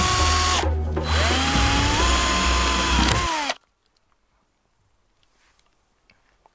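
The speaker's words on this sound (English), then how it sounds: "Pre-hole with a 4mm drill bit." A power drill with a 4mm bit bores pre-holes into van bodywork, loud and close, whining for about three and a half seconds with a pitch shift midway, then stopping abruptly into near silence.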